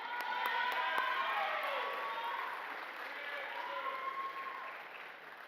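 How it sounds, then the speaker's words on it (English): Applause from an audience at a college athletics awards ceremony, a steady wash of clapping filling the hall and slowly tapering, with faint tonal sounds layered over it. "Big round of applause."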